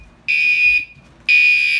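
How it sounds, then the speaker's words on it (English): A fire alarm panel with a connected sounder gives two loud, harsh electronic buzzing blasts, each lasting about half a second, separated by a short silence, close and alone with no talk. "And then I'll demonstrate audible silence again."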